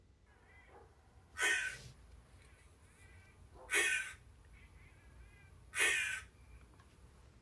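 Three loud, harsh caws imitating newly hatched crows, spaced about two seconds apart, each a single drawn-out call over a quiet background hum.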